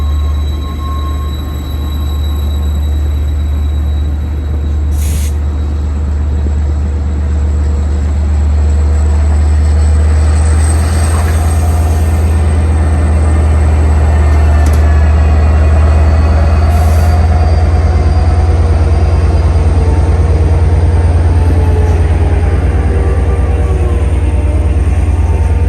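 An LIRR diesel locomotive, DC-508, leads a westbound train out of Montauk, its engine a loud constant low drone with steady rumble and occasional high wheel squeals and clicks throughout.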